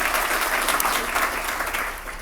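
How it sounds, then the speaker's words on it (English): Dense, steady applause from a lecture audience at an evolutionary medicine event, a continuous wash of many hands clapping that fades slightly toward the end. "Why don't we give them a round of applause to thank them for all that."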